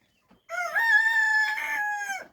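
A single rooster crows nearby, one drawn-out, clear cock-a-doodle-doo rising and holding before trailing off, with quiet surroundings.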